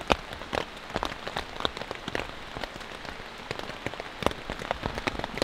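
Steady rain patters on a one-person LiteFighter military tent, with close, irregular drops tapping the fabric over a soft, continuous hiss.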